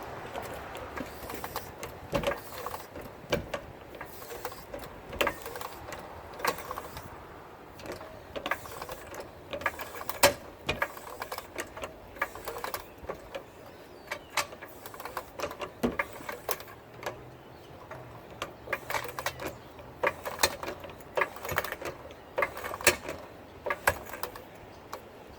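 Floor jack pumped by hand to raise a 2014 Acura MDX SUV, a steady run of close, rhythmic mechanical clicks and ratcheting strokes that continues for the whole stretch.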